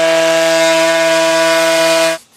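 A 3M Xtract random orbital sander runs at full speed with a loud, harsh, steady whine for about two seconds, then cuts off abruptly.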